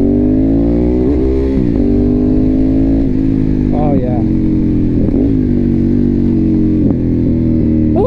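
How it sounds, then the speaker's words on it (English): A Ducati 848 Evo V-twin motorcycle revs loudly and close by, its exhaust rising and falling through several throttle blips over a steady idle, with a voice briefly exclaiming over it. "Let's hear this exhaust."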